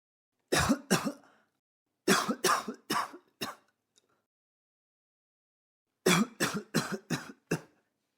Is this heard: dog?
no